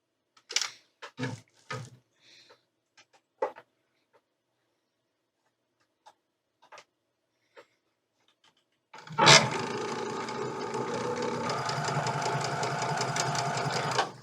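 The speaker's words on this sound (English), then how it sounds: "I'll just sew these up real quick." A sewing machine chain-pieces quilt pieces for a fall mystery quilt, running loud and steady for about five seconds after scattered handling clicks and rustles.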